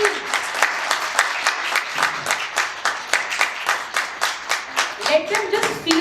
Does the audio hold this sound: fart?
no